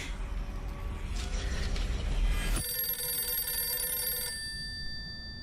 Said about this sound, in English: Uh-oh, the phone.